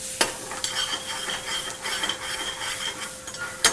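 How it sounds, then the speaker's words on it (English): A pan of veal scaloppine being shaken and stirred over medium heat on the stove, with a steady sizzle under repeated scraping and rattling of the pan, ending in a sharp knock. "Shake our pan a little bit again."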